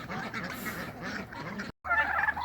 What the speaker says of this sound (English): Free range ducks.